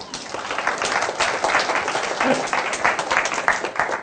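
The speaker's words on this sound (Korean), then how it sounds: "조교한테 잘 보이는 입장에서 박수 한번 쳐주세요." A classroom audience claps for a teaching assistant in a lecture, a moderately loud burst of applause with a few voices mixed in.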